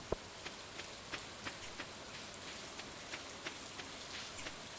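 Rain falls steadily in the farming game Stardew Valley, a soft, even patter with faint periodic drips and no voices over it.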